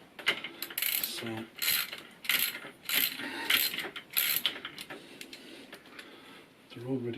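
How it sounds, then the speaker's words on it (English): Socket wrench ratcheting on engine bolts during teardown of a Suzuki SV650 engine, heard as bursts of quick metallic clicks spread through the clip, close and moderately loud, with brief speech at the start. "socket to get out the two bolts here, which again we have loosened already"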